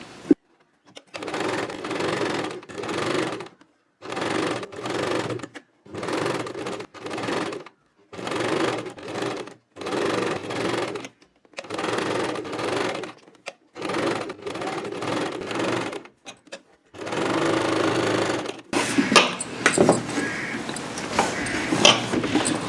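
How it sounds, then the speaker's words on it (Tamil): A sewing machine stitching a designer blouse runs in about a dozen short, steady whirring bursts separated by brief pauses, loud and close, ending in a longer run followed by handling clatter. "இப்போ வாங்க தைக்கலாம்."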